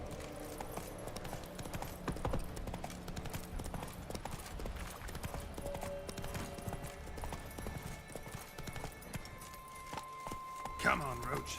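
Geralt's horse Roach gallops in The Witcher 3, rapid hoofbeats pounding continuously under game music and other sounds, with voices talking over them.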